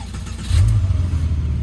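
A Porsche 996 Turbo engine fires up with a low rumble that swells into a deep, steady idle, loud and close with the exhaust closed.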